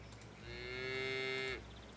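A single long, steady moo from cattle at a cattle ranch in the city-building game Pharaoh: A New Era, clear and sustained for about a second, then fading out, with no speech.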